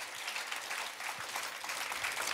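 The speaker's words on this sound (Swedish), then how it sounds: "Vi får ta en applåd." A theater audience applauds after a Swedish talk show segment with Magnus Uggla and Siw Malmkvist, a brief, fairly faint, dense patter of clapping from many hands.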